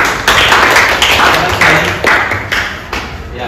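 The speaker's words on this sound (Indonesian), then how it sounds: "Kita tepuk tangan untuk kelompok 4." Classroom applause for a student group, a loud, close burst of many hands clapping that swells in waves over a few seconds.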